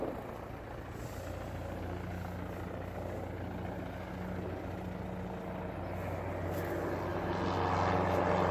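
Low-flying aircraft passes over near an airport, a steady droning engine roar with low harmonic hum that holds throughout and swells louder toward the end as it comes closer.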